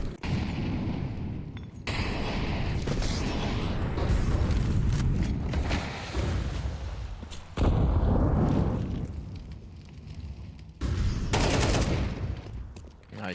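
Bursts of rifle fire and explosions in a Counter-Strike esports match, loud and dense, with rapid gunshots chopped into several intense clusters separated by brief lulls.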